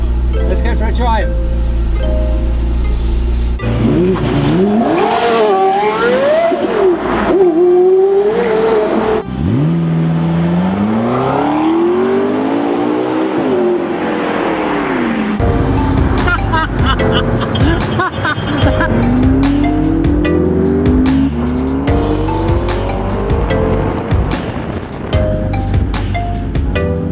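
A McLaren 12C supercar drives off and accelerates, its engine note rising and falling through several loud, close revving sweeps and gear changes, with a voice present.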